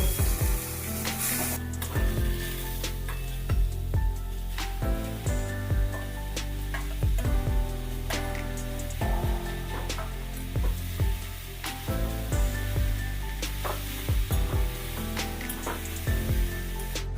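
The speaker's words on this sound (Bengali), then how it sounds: "এবার আমি ছোলা কচু কড়াটা দিয়ে নেব" Grated giant taro root frying in a wok with garlic and chilli gives a continuous sizzle, overlaid by a rhythmic series of scraping, knocking stirs from a spatula, with no voices.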